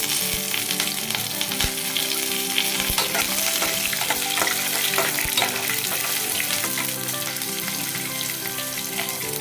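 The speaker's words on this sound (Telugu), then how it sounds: "పల్లీలు వేగిన తర్వాత పోపులు వేసుకొని బాగా వేయించుకోవాలండి" Green chillies and tempering spices sizzle steadily in hot oil after peanuts, with occasional clinks of a spoon stirring the pan, loud and close.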